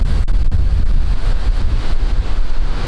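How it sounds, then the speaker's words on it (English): Strong wind buffeting the microphone outdoors at a landscape photography location, a loud continuous rumbling roar with gusty surges and no audible speech. "The wind is so strong."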